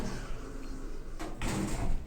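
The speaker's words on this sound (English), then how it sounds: "Doors closing." Otis lift doors at the Ilac Shopping Centre in Dublin slide shut with a short mechanical rumble and a soft thud near the end, over a steady background hum.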